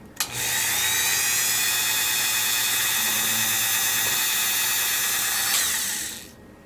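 A small drill bit spinning steadily to bore a tiny hole in a model ship part, with a continuous high-pitched whine lasting about six seconds before it winds down, close and alone.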